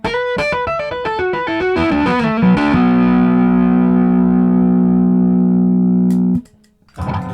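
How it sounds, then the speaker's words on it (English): Chapman Stick played through its neck pickup with overdrive, a loud quick run of driven notes resolving into a long sustained gritty chord that rings for several seconds before being cut off. "And here's the neck pickup. And now overdrive."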